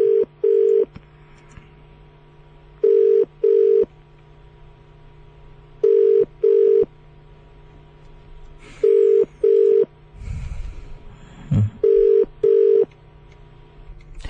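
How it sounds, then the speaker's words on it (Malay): A telephone call being placed: repeated paired ringback tones in a steady rhythm, interrupted once by a brief burst of dialling or line noise, loud and clear with no talking. "Kita cuba hubungi Cik Wira Mahat."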